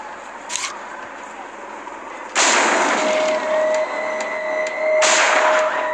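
Sniper rifle shots in the mobile game Sniper 3D Assassin, with two sharp loud cracks that ring out into a sustained tone, plus a fainter earlier report over a steady background hum.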